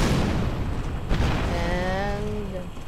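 An explosion attack in a video game raid fight, a deep booming blast that rumbles and fades, followed by a short rising tonal effect, heard loudly in the near foreground over game sounds.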